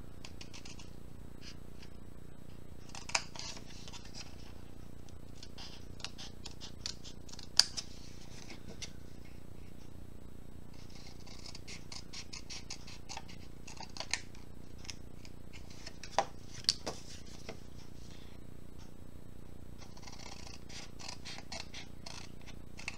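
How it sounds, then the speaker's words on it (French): Paper houses being cut out with scissors: repeated crisp snipping in quick bursts, with short pauses between runs of cuts, close and fairly quiet, no talking. "je viens découper mes petites maisons"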